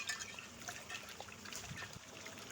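Cut potatoes are washed in water, giving soft trickling and splashing that is faint and continuous, with no voices.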